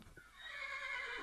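A horse in the Minecraft video game lets out one loud, high whinny that rises and wavers over about a second, clean and close with no talking.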